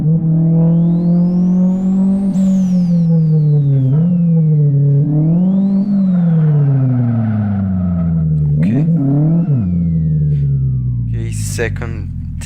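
A single-turbo Saveiro 1.6 in the Live for Speed racing game accelerates in second gear, its engine note rising and falling through repeated revs with a high turbo whine layered above, loud and close.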